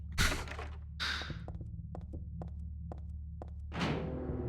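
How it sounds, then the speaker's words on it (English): A heartbeat-like ambient pulse fills a hallway in the video game Silent Hill 3: a steady series of soft, evenly spaced thumps over a low drone, with a few louder whooshing bursts at the start and end. "It's actually very much like a heartbeat."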